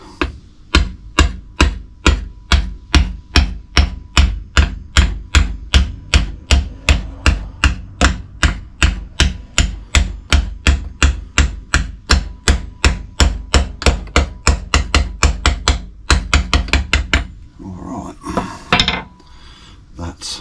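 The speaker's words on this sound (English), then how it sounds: "So I was just hammering down this top" Rapid, steady hammer blows on the top of a Phoenix power steering part, roughly fifty sharp metallic strikes in close, loud succession, then a brief clatter of handling noise at the end.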